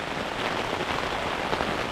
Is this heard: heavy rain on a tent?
yes